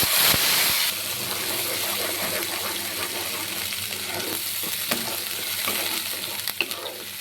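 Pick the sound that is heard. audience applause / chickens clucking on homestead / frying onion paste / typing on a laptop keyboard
frying onion paste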